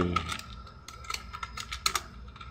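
Quick, uneven keystrokes on a computer keyboard as CSS code is typed, a steady close clatter of clicks with short pauses and no talking.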